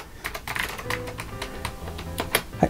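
Keys clatter on the keyboard of an NEC PC-8801FH model30 retro computer: a run of crisp, irregular clicks typed close by, with no speech.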